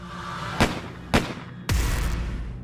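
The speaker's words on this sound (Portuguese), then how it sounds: "se escuta o primeiro disparo." Gunshots heard as a sound effect: two sharp, loud bangs about half a second apart, then a third that rings into a sustained roar. No one speaks.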